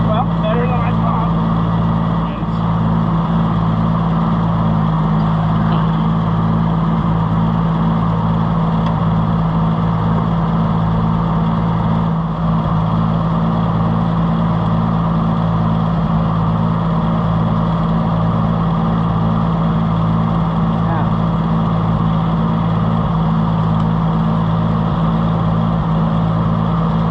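A tractor runs the PTO of a cheap New Holland 352 grinder mixer, the engine and driveline humming steadily with a regular pulsing throb, loud and close, while a person talks over it.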